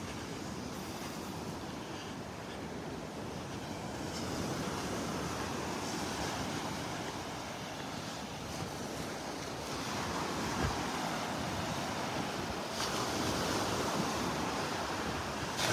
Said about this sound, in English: Oh boy, it sounds like the surf is kicked up